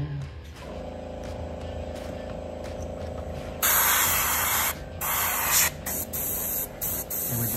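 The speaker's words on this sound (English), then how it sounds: "And we're just hitting it with the air, no paint, no clear coat." Compressed air blows in loud, steady hissing bursts over a custom McFarlane Damian Wayne Robin action figure, the main blast starting midway and cutting off in short breaks, with a low background hum throughout.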